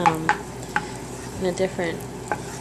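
Garlic, carrots and peas stir-fried in a pan, with a spatula scraping and clattering in a few sharp strokes over a low, steady sizzle.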